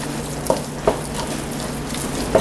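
Bacon bits are stirred into loaded mashed potatoes, making soft wet squelches and a few spoon taps against the bowl over a low steady background.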